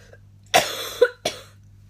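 A woman coughs in a short fit of three sharp, close bursts, the first two bunched together and the last after a brief pause, in an otherwise quiet room.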